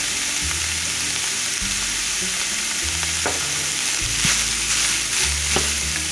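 Ground beef for a cheeseburger pot pie sizzles and fries steadily in a pan, with occasional stirring and scraping sounds over a constant crackle, close up and without any talking.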